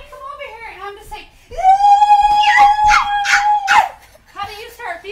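A person imitates a dog, voicing a drawn-out howl with whimpering, yipping inflections, close and loud, with brief speech-like vocal sounds before and after.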